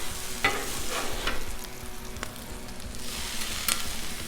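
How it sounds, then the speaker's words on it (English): Bacon sizzling on a Blackstone griddle while a spatula pushes it aside, steady frying hiss with a few scraping strokes and light metal taps, close and fairly loud, no voices. "I'm gonna move this bacon out of the way a little bit"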